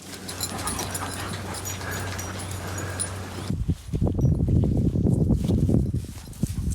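A dog moves about close by on a mountain, panting and scuffling, with small whimpers and footfalls over background noise.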